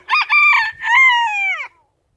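A Scots Dumpy rooster crows once, loud and close, a harsh opening note followed by a long drawn-out call that trails off into silence.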